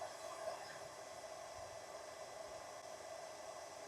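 A KKSevens induction heater warms a rusted nut, giving a steady, faint hiss with an even high-pitched whine that holds unchanged throughout, with no talking.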